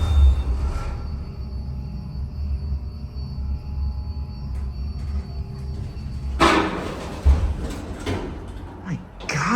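A Schindler 400A MRL traction elevator rumbles low during a ride, then its loud brakes clunk and hiss in sharp bursts near the end, close and prominent.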